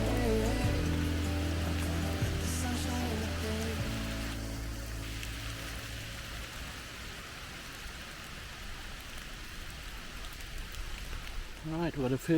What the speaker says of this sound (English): We've got sideways rain at the moment out in the fields.